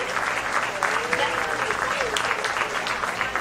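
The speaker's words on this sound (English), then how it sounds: "I would like another round of applause for both the volunteers in the ring" Steady, dense applause from an audience fills the ring at a county fair beef and Clover Kids show, a continuous close wash of clapping that lasts the whole moment without letup.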